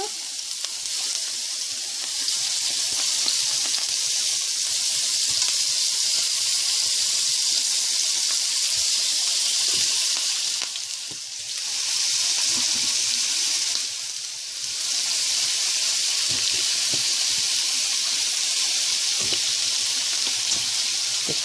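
Giant shrimp frying in a pan for a Creole coconut-milk shrimp fricassee: a steady, loud sizzle that holds throughout, dipping briefly twice, with no talk.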